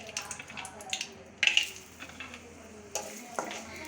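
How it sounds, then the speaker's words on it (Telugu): Cashews and almonds being fried in ghee in a pan, soft sizzling under clinking metal spoon-on-pan stirring sounds, with a couple of sharper scrapes and knocks. "ఇప్పుడు మనం జీడిపప్పు అండ్ బాదంని నెయ్యిలో ఫ్రై చేసుకుందాం."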